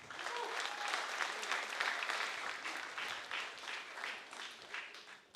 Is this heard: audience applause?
yes